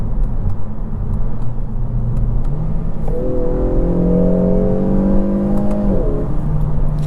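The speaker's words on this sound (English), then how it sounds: "Definitely does sound fun. It does have a sport exhaust." A 2023 Kia Forte GT2 with a sport exhaust accelerates, its engine note rising steadily into a strong, close drone over a constant low road rumble, then easing off near the end.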